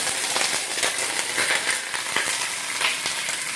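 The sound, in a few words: sausage caramelizing in a hot pan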